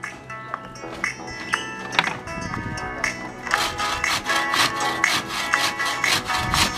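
Sawing made as a sound for a song: steady back-and-forth rasping strokes on wood grow louder and more regular halfway through, close and continuous.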